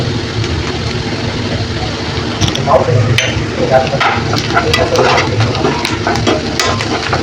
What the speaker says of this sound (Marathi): आता छान आपला कांदा परतून झालेला आहे मस्त थोडीशी हळद टाकली मी त्याच्यात